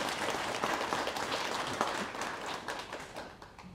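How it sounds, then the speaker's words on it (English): An audience at a Hall of Fame ceremony claps steadily, the sustained applause fading slightly toward the end, with no talk over it. "How about a round of applause for him,"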